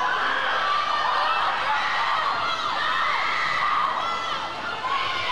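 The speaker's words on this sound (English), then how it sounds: "A lot of screams coming from teammates and crowds." Teammates and spectators scream and cheer continuously through a girls' varsity swimming meet in an echoing pool hall, a loud, dense wall of high-pitched shouting with no pauses.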